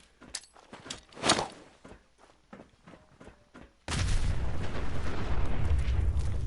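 A nuka grenade blast in the Fallout video game bursts in suddenly and loud, leaving a dense, sustained roar after a stretch of quieter scattered thuds and steps.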